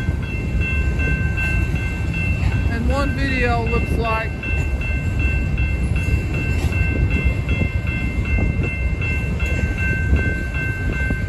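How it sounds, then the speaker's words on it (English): Two trains pass together with a steady, loud roar of rolling wheels and wind that fills the whole stretch, a brief horn-like tone rising over it early on, while a person talks briefly. "Two trains."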